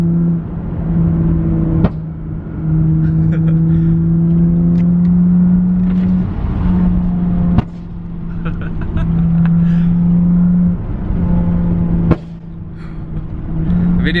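A BMW F80 fitted with a flame tune exhaust revs hard and close, its deep engine drone rising and falling, broken by three sharp crackling pops.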